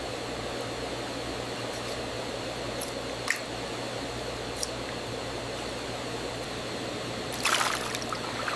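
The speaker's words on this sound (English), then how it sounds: "The bodies pass into another section where workers peel and rinse them." Water runs steadily over peeled squid on a Korean seafood processing line, a constant rushing spray with a low machinery hum and a few faint knocks and splashes.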